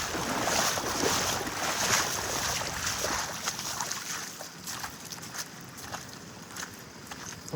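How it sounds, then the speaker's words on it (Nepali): Floodwater flowing and spilling over in flooded streets of Dhangadhi, a steady broadband rush with wind and splashing, loud and continuous throughout. "पानीको ओभरफ्लो भइरहेको अवस्था छ यहाँ"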